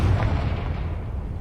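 Confringo blasting spell going off in Hogwarts Legacy, a single loud, close boom with a deep rumbling body that fades slowly over its length, with no voices.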